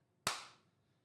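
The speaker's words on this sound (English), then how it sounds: "give me a big clap." A single sharp hand clap used to sync audio, loud and close, with a short ringing decay into quiet.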